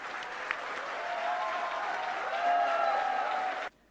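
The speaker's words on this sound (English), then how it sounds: "please join me in giving Shahrukh a resounding round of applause" Event audience gives a warm round of applause for Shahrukh Khan at a college festival inauguration, a sustained crowd clapping that swells slightly midway and then cuts off abruptly.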